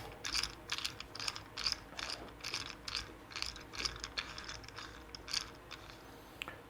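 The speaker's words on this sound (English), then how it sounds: "We're going to unscrew this. We can get an Allen wrench in there." Rapid ratcheting clicks come in short bursts as an Allen wrench unscrews a tablet mount, close and fairly quiet, with no talking.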